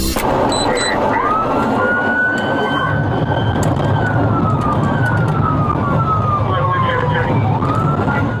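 A state trooper's wailing siren rises and falls continuously over dense highway traffic rumble, loud and close, with faint voices in the background, responding to a car crash with a vehicle on fire.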